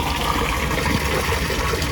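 Water pours and splashes steadily for a calf to drink on a farm during hot weather, a continuous close gushing stream with no talking.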